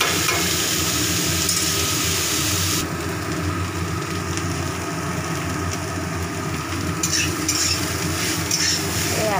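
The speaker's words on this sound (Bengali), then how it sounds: "ওরা এখনো ভাজা হচ্ছে।" Food frying and being stirred in a pan, a steady close sizzle with scraping and stirring noises running throughout, slightly softer partway through, with no talking.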